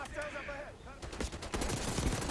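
Rifle gunshots in Call of Duty: Black Ops 6, a quick volley of sharp cracks in a tight corridor, following a stretch of talk and ringing loud over the fading voice.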